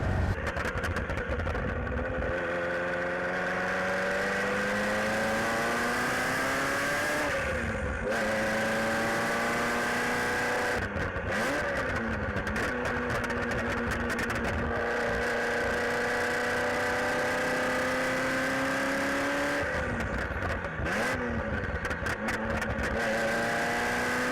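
A Ferrari F40 engine on the road, driving: a loud, continuous, close-up drone whose pitch climbs steadily and drops sharply at gear changes, with no talking.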